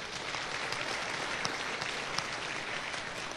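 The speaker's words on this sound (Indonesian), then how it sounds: "Berikan tepukan untuk beliau" A loud, dense wash of applause from an audience at a motivational stage event honoring a speaker, sustained evenly throughout with no pauses.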